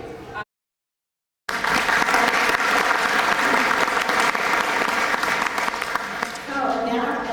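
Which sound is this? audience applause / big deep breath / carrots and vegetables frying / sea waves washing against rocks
audience applause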